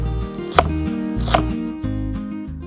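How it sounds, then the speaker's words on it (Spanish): Knife chopping small red and white onions on a board, a few crisp, spaced cuts standing out over steady low background music. "vamos a cortar las cebollitas más pequeñas, cebolla roja, cebolla blanca"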